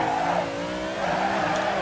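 A car slides with its rear end stepping out in the Assetto Corsa racing game, a steady engine drone with a continuous tire squeal, loud and close throughout, without speech.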